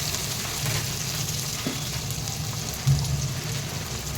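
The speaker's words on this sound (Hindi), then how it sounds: "इसमें मैं ये प्याज डाल रही हूँ।" Onions dropped into hot oil in a pan, a steady crackling sizzle like light rain, with a brief clatter partway through and no talking.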